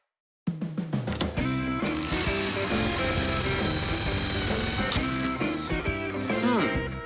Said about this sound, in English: It's gonna need to be drilled.